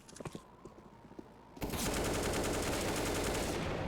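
Rapid automatic gunfire in a Counter-Strike match on the Nuke map: a few scattered shots and footsteps at first, then a sudden loud, sustained burst of machine-gun fire that runs to the end.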